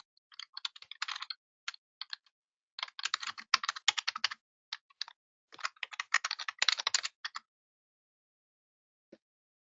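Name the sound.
typing on a computer keyboard to search patient records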